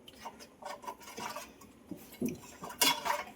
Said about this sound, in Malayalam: ഇനി ഇത് നമുക്ക് നല്ല പോലെ ഒന്ന് മിക്സ് ചെയ്ത് കൊടുത്തിട്ട്